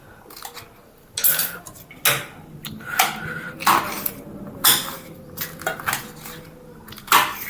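A knife chops bell pepper (capsicum) on a board, with sharp, uneven clacks and knocks close by, scattered in bursts over several seconds with quieter scraping between.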